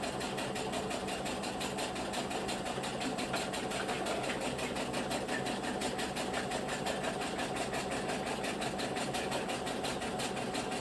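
A sewing machine stitches baby bummies in a fast, even mechanical whir, with its needle pattering in a steady rhythm for the whole stretch and no talk.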